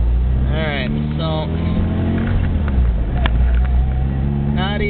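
Car with a boost gauge, engine revving and accelerating while driving around the block, a loud steady drone rising in pitch several times, with someone talking over it.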